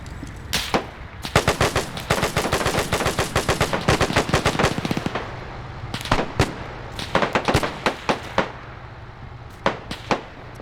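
Rapid bursts of gunfire in a World War II video game, dense automatic fire for several seconds, then scattered single shots and short volleys with gaps between them, loud and close.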